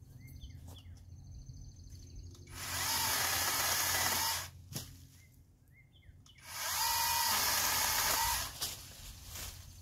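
A powered outdoor trimming tool runs in two loud sustained bursts of a few seconds each, a whining motor cutting outdoors, with quieter idle gaps and faint birdsong between them.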